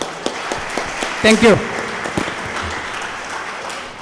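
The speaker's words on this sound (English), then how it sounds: "Join me in giving him a round of applause." Applause at an orientation programme, a moderate crowd clapping steadily while a voice speaks briefly over it near the start.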